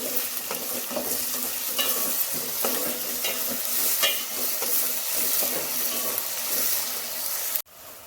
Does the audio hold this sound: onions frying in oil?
yes